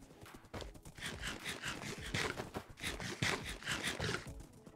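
Horse hooves clip-clop steadily in a survival-island video game, a continuous rhythmic trotting with some scraping, fairly loud and without talk over it.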